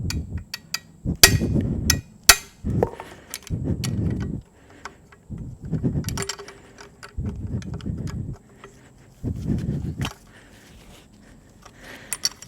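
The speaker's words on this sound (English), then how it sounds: "So just a couple of whacks with a hammer." A hammer striking a turbocharger fitting on a GM Ecotec 1.4L engine, a series of sharp metallic whacks near the start, then several dull rhythmic thudding bursts, close and fairly loud.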